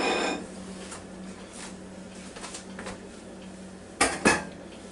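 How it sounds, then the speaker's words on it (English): An antique butter dish being handled in a home kitchen: a couple of bright ceramic clinks close together near the end, after a faint rustle and clatter at the start, with a quiet hum underneath and no talking. "I'm going to take my antique butter dish here"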